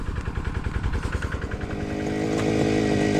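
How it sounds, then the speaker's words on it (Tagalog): A petrol string trimmer cutting grass, its small two-stroke engine revving in a rapid buzzing rattle close by, then settling into a steady high whine as the line cuts. "Scatter, grass cutter."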